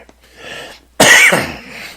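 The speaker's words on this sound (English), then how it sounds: "This cough is going to kill me, I swear." A man coughs once, a harsh, loud burst after a moment of faint background sound, the cough trailing off quickly.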